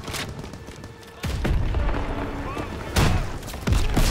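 Panzer tank blowing up in a Call of Duty WWII battle, heavy booming blasts at about 1.3, 3 and 3.7 seconds amid ongoing gunfire and battlefield noise, with shouted voices in the mix.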